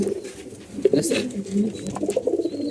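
Two pigeons kept in a loft with a nest and eggs coo in low, repeated phrases close by, mixed with some background talk and rustling.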